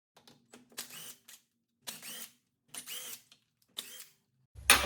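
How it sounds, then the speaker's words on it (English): Lug nuts being loosened and spun off a front wheel of a 2018 Chrysler Pacifica, four separate bursts of ratcheting, whirring mechanical noise with short pauses between, close and fairly loud, ending in a heavier thump. "Let's remove the lug nuts and pull the tire off."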